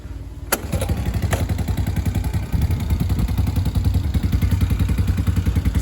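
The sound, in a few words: Honda TRX90 ATV engine running after top end rebuild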